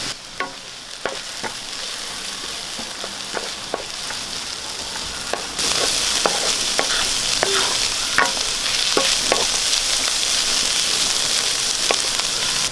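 Chopped coconut pieces sautéing in a pan for an onion chicken dish crackle with a constant sizzle, broken by sharp stirring clicks; the frying hiss grows noticeably louder about halfway through.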